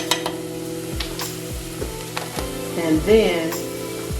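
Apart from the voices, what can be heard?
stirring sage into stuffing mixture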